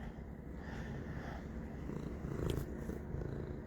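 A handsome pet cat purrs steadily at close range, a low continuous rumble that stays soft and even throughout.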